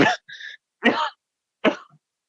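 A person coughs three times in short, separate bursts indoors, each cough harsh and close up with silent gaps between.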